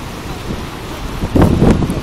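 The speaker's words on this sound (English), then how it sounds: "Ooh, the wind's kicking in." Gusty wind buffeting near Horseshoe Falls at Niagara Falls on a misty, freezing day, a rushing roar that surges louder in the second half, close and rough against the microphone.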